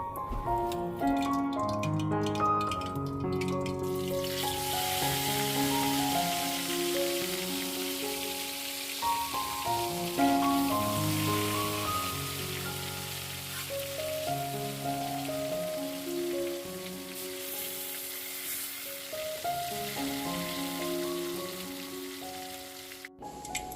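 Sardines fry in a pan for fish pickle, giving a steady broad sizzle that runs under prominent melodic background music throughout.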